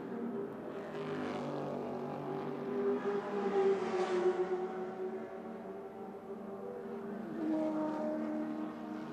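A Chevrolet Camaro race car at Adelaide International Raceway, 1981, its engine droning steadily at a distance, swelling as it passes and easing off through a turn, with no talking.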